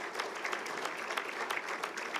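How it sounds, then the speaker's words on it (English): Steady, dense applause from an audience at an annual sports awards ceremony in Bermuda fills the whole stretch, many hands clapping at once in an even wash with no voices on top. "a hand clap is required for that"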